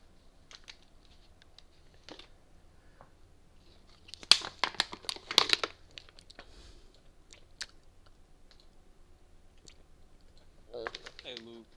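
Quick bursts of computer keyboard typing, soft and fairly close, come in short irregular clusters of clicks over a quiet room, with the densest run of keystrokes in the middle and a scattering of lighter taps around it.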